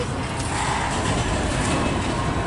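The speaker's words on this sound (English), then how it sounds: "This is a long train, Tyler." Long CSX freight train rolling past in Fostoria, Ohio, a steady broadband rumble and rail roar that holds loud and unbroken throughout, close by.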